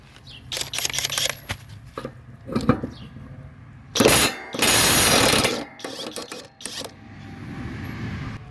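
A newly bought impact wrench loosens a lawnmower blade bolt torqued to 70–90 pounds, giving two loud, close mechanical bursts midway, the second held about a second, amid scattered clicks and handling noise.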